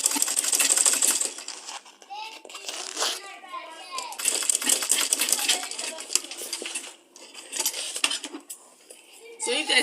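A sewing machine stitches a leather tote bag in bursts of busy mechanical rattling, with clinks of small metal objects and a voice chattering over the workshop noise.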